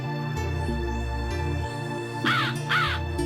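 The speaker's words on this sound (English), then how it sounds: "Loud crow." A crow in The Ring: Terror's Realm video game gives two loud, harsh caws near the end, standing out over steady droning game music.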